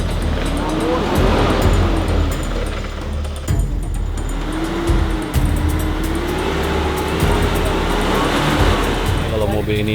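A car drives a rough, muddy road toward Yame village in Papua, its engine droning and wavering continuously, with jolts and bumps throughout and people talking over the noise inside.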